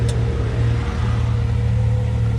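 Can-Am X3 engine running after a new belt installation, a close, steady mid-pitched idle rumble with a brief sharp click at the start.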